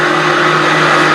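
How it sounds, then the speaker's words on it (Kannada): A kitchen mixer grinder runs loud and steady, a continuous whirring motor drone with a strong buzzing hum that fills the whole moment without any voices. "ನಮ್ಮಮ್ಮ ಮಿಕ್ಸಿ ಆನ್ ಮಾಡಿದ್ದಾರೆ."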